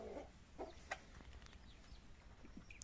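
Roosters held in a backyard chicken coop in the evening give scattered short clucks and calls, soft and somewhat distant, over a low background hum with no talking.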